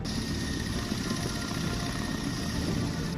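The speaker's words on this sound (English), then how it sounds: "The group consists of one Mi-8 helicopter and one K-52." Steady rotor drone of an Mi-8 helicopter in flight, a continuous low thrum with a faint high whine, at moderate distance.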